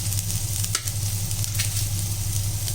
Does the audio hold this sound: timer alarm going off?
no